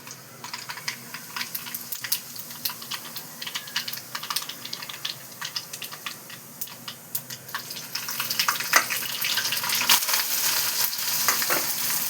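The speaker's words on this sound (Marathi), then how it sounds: "राई चांगली फुटली पाहिजे" Rapid crackling and popping of seeds in hot oil, a dense irregular spattering that grows louder and busier toward the end.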